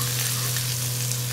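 Ground coriander, cumin, chili and turmeric with ginger paste sizzle in hot oil, a steady, close, crackling fry with no pauses.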